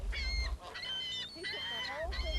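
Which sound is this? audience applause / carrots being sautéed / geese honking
geese honking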